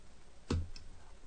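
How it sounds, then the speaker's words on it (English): A single faint computer mouse click, short and dry, over a quiet background hiss. "I am clicking here"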